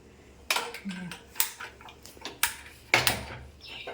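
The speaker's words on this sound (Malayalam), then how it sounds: "ഇനി ചട്ടി അടുപ്പത്ത് വയ്ക്കാം." A clay cooking pot set down on a stove gives a few sharp clattering knocks with scrapes between them, close and moderately loud, with a faint voice in the background.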